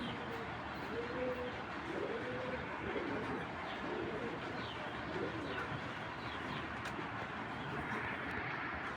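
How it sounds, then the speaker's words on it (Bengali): Belgian racing pigeons coo in low, repeated rolling calls from close by, layered over a steady background hum with faint chirps. "এর ভিতরে তো মাদি কবুতর দেখালাম বেলজিয়ামের"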